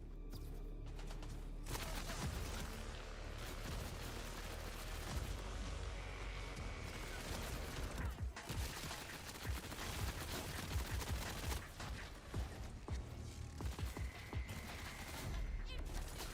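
A fully automatic gun that behaves like an assault rifle fires in a video game, a dense rapid stream of shots that runs almost continuously at moderate level with brief gaps, with some game sounds mixed in.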